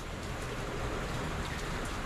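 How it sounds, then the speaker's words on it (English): Steady rain falls, a dense, even hiss of drops pattering on surfaces with a faint low rumble beneath and no voices. "And as you guys can see, it's raining."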